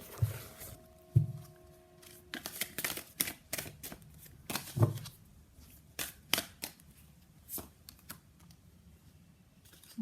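Tarot cards being handled and drawn, heard as irregular close-up taps, flicks and shuffling rustles in a quiet room, with no talking.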